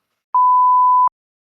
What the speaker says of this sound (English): Whenever we mess up anything, I just like beep and then like you know chop it up